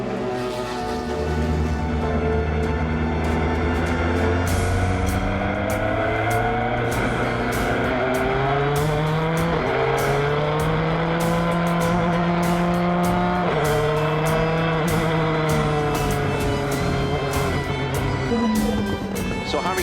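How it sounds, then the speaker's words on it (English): A Jota number 38 Zytek race car pulls out of the pits at Le Mans, its engine a loud, steady drone rising and falling through gear changes. A voice talks over it throughout. "Harry Tincknell at the wheel of the Jota number 38 Zytek for the first time here at Le Mans."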